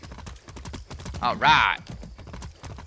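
Horse hooves clip-clop in rapid rhythm in the video game Far Cry 6, with short bursts of galloping steps and a brief louder rush in the middle, while someone talks briefly.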